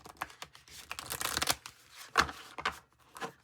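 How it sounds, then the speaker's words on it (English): Tarot cards being shuffled by hand, a quiet, close series of papery riffling bursts and soft slaps in irregular rhythm, alone without speech. "One more shuffle."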